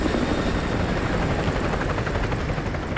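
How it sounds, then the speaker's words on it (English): An enemy helicopter patrols in Call of Duty Modern Warfare 2 Remastered, its steady rotor thump and turbine roar filling the whole stretch loudly and continuously, without talk. "Chopper inbound, keep low."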